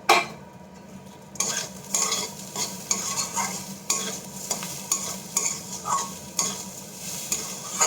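Sugar is stirred into pulao in a hot pan: a spoon scrapes and turns the rice in repeated strokes over a steady sizzle, close and fairly loud, with no talking.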